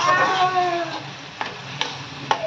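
Egg masala curry is stirred in a pan over a soft, continuous sizzle, with a few light spoon taps against the pan after a short spoken phrase at the start.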